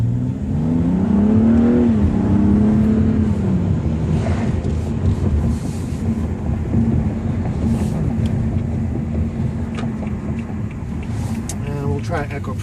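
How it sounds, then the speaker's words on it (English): A 2014 BMW M235i engine drones and revs with the windows down while driving, a loud continuous roar mixed with road and wind rush, and a voice speaks over it near the start and end. "Try to roll windows down to see if you can hear the engine better."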